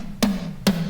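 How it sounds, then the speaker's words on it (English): Toms processed with Valhalla Vintageverb set to an 80s non-linear reverb, two full hits and the start of a third, each with a bright burst and a sustained gated tail, no talk. "I am using the Valhalla Vintageverb on these toms"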